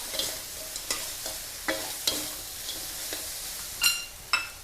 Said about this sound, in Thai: ก็เอาปลาค่ะลงไป คั่วเลยค่ะ เปิดไฟแรงเลยนะคะ